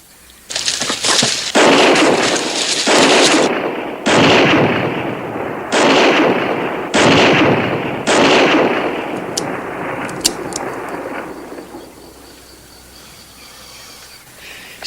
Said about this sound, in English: He's firing in the air.